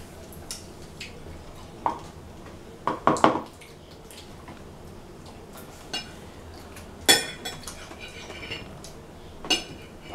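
Pomegranate seeds scooped from the fruit, soft wet scrapes with scattered clinks of a utensil against a bowl, close and quiet with gaps between strokes.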